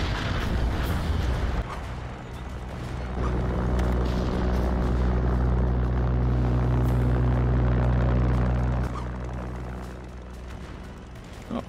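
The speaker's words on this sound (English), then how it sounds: "I like the new dive bomber sound" A dive bomber aircraft in the VR strategy game Final Assault VR roars loud and close, a sustained low rumbling engine drone that swells and holds for several seconds before easing, with no talk over it.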